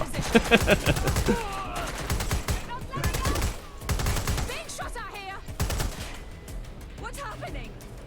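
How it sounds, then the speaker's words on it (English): Bursts of rapid gunfire from the video game Watch Dogs Legion crackle in quick volleys, loud and close, mixed with game voices and a person talking over the shooting. "Kill those people shooting at me."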